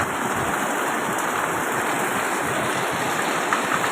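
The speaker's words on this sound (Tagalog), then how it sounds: "alas 2 ng hapon bumagsak ang ulan" Steady afternoon rain pours down in a dense, continuous hiss of drops on surfaces, loud and even throughout with no other sounds standing out.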